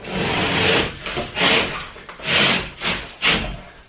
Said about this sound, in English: So score your board and just snap it over a little bit.